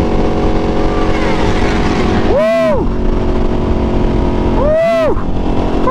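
Two motorcycles race past on a road one after the other, each a loud engine roar that rises and falls in pitch as it sweeps by up close, heard over a constant engine drone.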